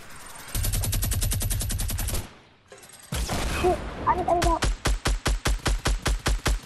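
Fortnite gunfire starts with a fast, loud burst of automatic shots, then comes a brief lull and more bursts, and it ends in a steady run of evenly spaced single shots.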